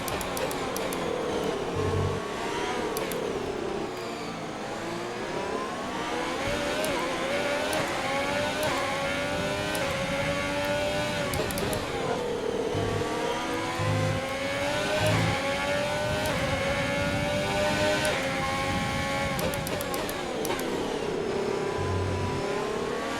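A Formula 1 race car engine in the F1 2020 video game revs continuously, rising and falling in pitch through gear changes, loud and steady for the whole stretch.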